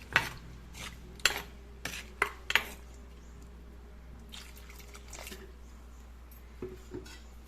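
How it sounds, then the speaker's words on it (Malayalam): Fish curry spices stirred with a metal spoon in a clay pot, several sharp clinks and scrapes spaced irregularly with wet dripping in between, close and clear with no talk. "നല്ലപോലെ മിക്സ് ചെയ്യും"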